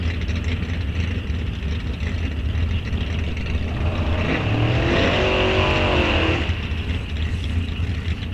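A Pontiac Firebird launches down the drag strip at Rock Falls Raceway during test and tune, a loud roaring engine that rises into a hard acceleration run, heard from the track side without speech.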